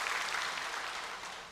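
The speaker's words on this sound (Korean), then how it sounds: "박수를 보냅니다." A church congregation applauds in a brief, soft, steady wash of clapping that tapers off slightly.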